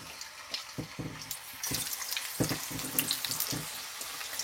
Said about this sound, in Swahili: sasa nitadumbukiza chipsi zangu